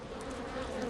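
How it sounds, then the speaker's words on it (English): Native Japanese honeybees swarming at their hive in a hollow tree, a steady dense buzzing hum, close and continuous with no voices. "These too are honeybees. They've made their hive in a hollow tree."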